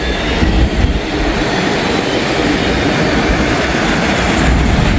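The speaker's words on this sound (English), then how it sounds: "So this is definitely a different train." A freight train with locomotives passes close by, a loud, constant rumble of wheels and cars on the rails with faint clatter, filling the whole stretch with no voices.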